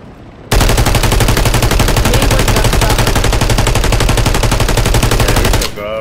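Machine gun fire in a video game: one continuous, loud, rapid automatic burst lasting about five seconds, each shot evenly spaced in a relentless rhythm, cutting off abruptly at the end.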